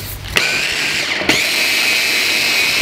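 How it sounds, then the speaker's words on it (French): Small blender whirring steadily as it mixes a ketchup and glucose syrup glaze for barbecue chicken lacquering, a continuous high motor whine with two brief clicks or bumps as it runs, close and loud with no talking. "on va pouvoir mixer tout ça gentiment pour que le sirop de glucose se mélange bien"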